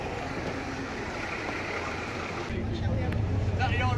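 Bristol RE single-decker bus of Southern National on a running day in the Yorkshire Dales, its diesel engine droning steadily from inside the bus, rising to a heavier, rougher note partway through as it pulls away.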